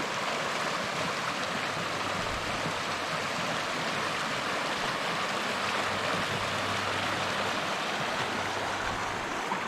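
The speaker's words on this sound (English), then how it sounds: "There's a lot of water running." Stream running high with meltwater beside a hiking trail, a loud steady rushing and gurgling that stays constant and close throughout, with no talk.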